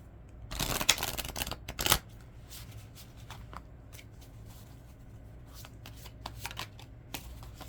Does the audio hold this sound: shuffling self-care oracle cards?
yes